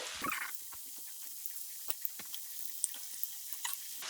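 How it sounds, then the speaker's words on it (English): Sweet potato fries fry in hot oil, a quiet hiss of sizzling with scattered small pops and crackles, faint and close. "Now I'm gonna carefully Add the fries"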